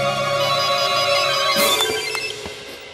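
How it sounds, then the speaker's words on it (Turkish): A mobile phone ringtone plays loud and close, a steady electronic melody with a few clicks near the end as it fades slightly. "Hakan Bey'in telefonu."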